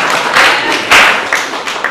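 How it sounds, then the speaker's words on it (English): Short burst of audience clapping for a panel moderator at a discussion event, a modest, close round of claps swelling briefly near the middle before tapering off. "Give her a little clap."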